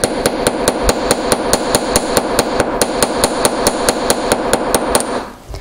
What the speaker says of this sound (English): with the flat end of my planishing hammer, I'm just going to hammer this down a little bit